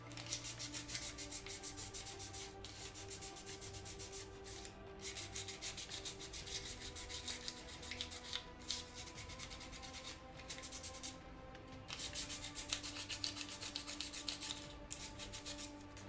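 A surface is sanded down by hand with abrasive paper, giving a continuous close scratchy rubbing with rhythmic back-and-forth strokes and brief pauses, alone and moderately quiet.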